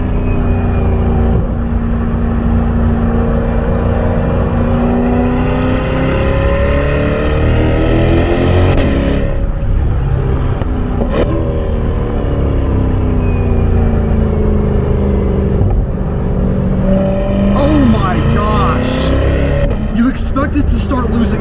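A Chevrolet C8 Corvette is driven hard through sharp corners, its loud, close engine note climbing and dropping repeatedly with gear changes and throttle lifts, continuous throughout with a few short sharp noises near the end.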